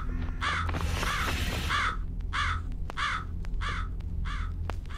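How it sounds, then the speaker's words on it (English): A crow cawing repeatedly in a Japanese horror video game, a string of harsh, evenly spaced caws over a low steady ambient hum, with a few sharp clicks between them. "Gotta go past the noisy bird again."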